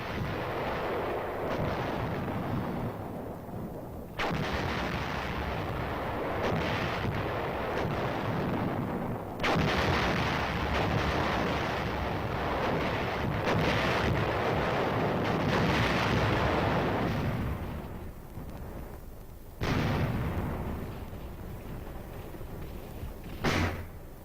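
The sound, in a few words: artillery fire in 3rd Division Korean War footage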